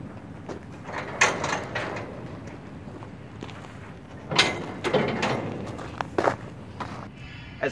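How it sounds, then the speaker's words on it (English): A hand winch on a grain dryer is cranked back a couple of turns after the locking pin goes in, giving mechanical ratcheting clicks and clunks over a steady outdoor background hum. "he's inserting this locking pin, and he will take a couple of turns back on the winch for resting the weight"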